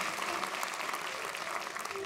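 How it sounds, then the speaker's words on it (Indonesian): Studio audience applause during an Indonesian comedy talk show, a dense steady wash of many hands clapping at moderate level, with faint voices mixed in. "Telat tepuk tangannya."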